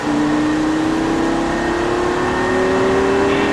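A loud Lamborghini sports car engine holds a steady drone that climbs slowly in pitch as it accelerates, close and continuous with no talking.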